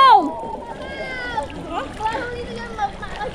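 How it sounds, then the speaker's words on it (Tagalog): Strong river current rushing and splashing in a Nueva river, a continuous watery wash under excited voices. "Ang lakas ng agos."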